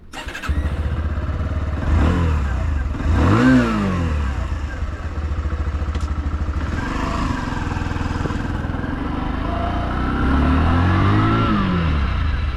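A 2025 Bajaj Platina 100cc commuter motorcycle engine runs while riding, a steady low putter with rising revs through gear changes and wind noise over the ride.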